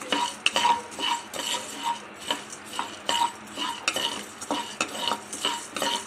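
Three tablespoons of coriander seeds being fried in a pan for homemade rasam powder, with a steady run of rhythmic spatula scrapes and stirring strokes against the metal, close and fairly quiet, with no talking.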